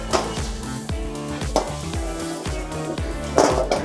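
Tomato gravy with masalas sizzles in a pan during Rayalaseema-style cooking, a close, steady frying hiss broken by repeated scraping and stirring strokes, with no talking.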